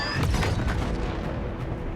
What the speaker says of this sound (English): eventually I got this Halo Infinite Phantom style explosion